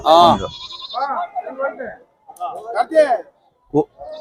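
Goat kids bleat at a busy sheep and goat market in Chitradurga, with loud, close cries breaking out repeatedly between people talking nearby.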